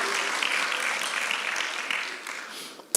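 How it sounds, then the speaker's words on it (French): A church congregation applauds children in a short, steady burst of clapping that gradually tapers off. "Est-ce qu'on peut les applaudir encore?"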